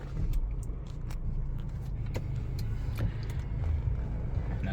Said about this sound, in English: There's your 4-cylinder twin turbo 2-litre engine starting up there.